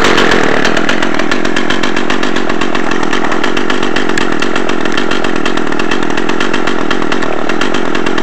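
A loud, close Echo CS-330T top-handle chainsaw with a 14-inch bar runs continuously as it warms up, its two-stroke engine buzzing with a rapid, steady pulse and no pauses.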